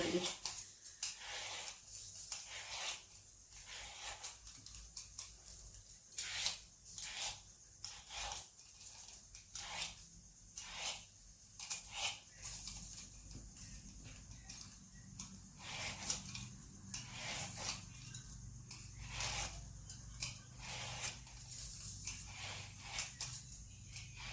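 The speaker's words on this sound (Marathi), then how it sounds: "आता प्रथम आपण हे जे दोडके आहेत याच्या आपण साल काढून घेत आहोत याच्या ज्या शिरा आहेत ना या शिरा सगळ्या आपण काढून घेत आहोत" A ridge gourd is peeled and its ridges scraped off in a rapid, steady series of short rasping strokes, close and fairly quiet, with someone talking over them.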